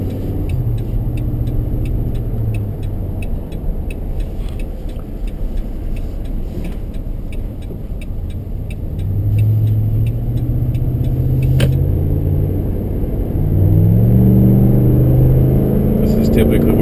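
A 2011 Dodge RAM 1500 pickup engine accelerates while merging onto a freeway, its low rumble swelling in two surges over steady road and tire noise inside the cab.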